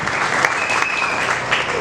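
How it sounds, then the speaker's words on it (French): Audience applause at an official book launch ceremony, a dense burst of many hands clapping close and loud for a brief moment. "Applaudissez très fort."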